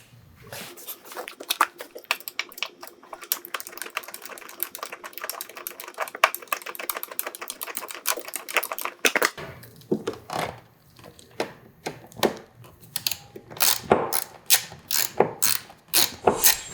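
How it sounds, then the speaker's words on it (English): A BMW S1000RR motorcycle's T25 seat fasteners are loosened with a ratcheting tool: rapid, dense mechanical clicking for several seconds, then slower, separate ratchet bursts, close and moderately loud. "And loosen up that T25, we'll do it on both sides."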